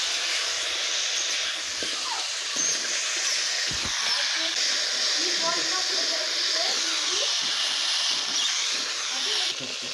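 Bottle gourd stems hiss loudly as they drop into hot oil after fish frying, a dense, continuous sizzle with faint scraping and a voice talking now and then.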